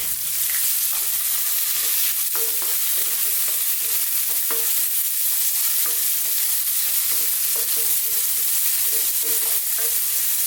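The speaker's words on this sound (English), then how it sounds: "we're going to go in with our onions. That garlic ginger paste" Onions and a garlic-ginger paste fry in a pan with a steady bright sizzle, broken by repeated scraping strokes of stirring, close and continuous without any talk.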